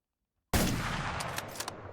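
Gunfire from the online shooter game Survarium, a sudden loud burst starting half a second in, followed by dense rattling shots and a few sharper cracks toward the end, with no talk over it.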